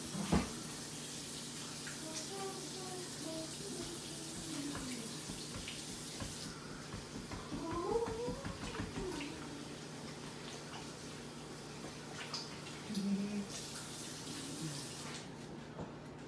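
Hands get washed under a running kitchen tap, a low steady water stream with faint splashes and a few clinks, continuing quietly for a long stretch before stopping near the end.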